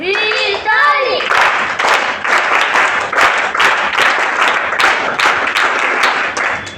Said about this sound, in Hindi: उनके लिए एक जोरदार तालियां बजाएं आप